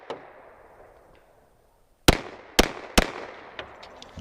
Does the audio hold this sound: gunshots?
yes